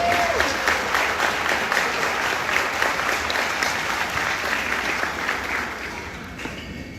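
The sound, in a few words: audience applause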